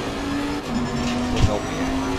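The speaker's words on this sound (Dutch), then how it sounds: "Beter geluid van het gaspedaal." A race car engine in the racing game Assetto Corsa Competizione hums at steady throttle with a brief rise in revs near the end, close and constant.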